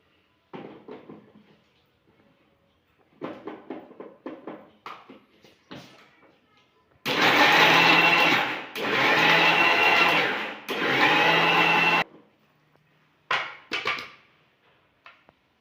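An electric mixer grinder whirs loudly in three long bursts while grinding masala premix, with clattering jar handling and lid sounds before and after.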